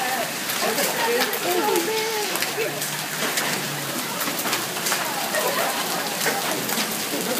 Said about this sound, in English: Look at all this hail